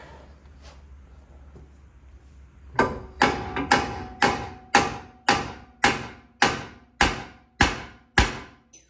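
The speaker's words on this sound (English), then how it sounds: "I don't damage the threads when I hit it with the hammer" Sharp metallic hammer strikes on a nut threaded onto a bushing of a 20-year-old BMW Z4 ring out about twice a second, a dozen evenly spaced blows after a quiet start.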